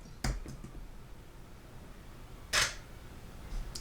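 A camera shutter fires twice, tethered to Lightroom and triggered from a computer keyboard: two crisp, close mechanical clicks a couple of seconds apart over quiet room tone, with no speech.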